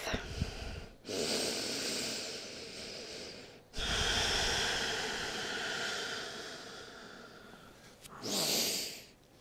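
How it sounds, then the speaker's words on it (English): Slow, deep breaths during a yoga class, long airy inhales and exhales heard close up, three extended breaths separated by short pauses, with no speech over them. "Still a slow, deep, steady breath."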